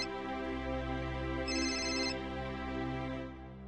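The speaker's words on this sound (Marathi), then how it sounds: "राधिका, ही काऊन बरं फोन करत आहे?" A mobile phone rings with an incoming call, a steady tonal melodic ringtone playing close and clear for a few seconds before fading out, with no talk over it.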